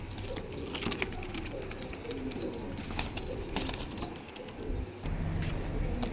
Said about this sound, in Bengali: আরেক জোড়া ইন্ডিয়ান ঝাকগোলা, এই যে নর বিগ সাইজের, এই যে মাদিও বিগ সাইজের, দেখার মতো একটা পেয়ার।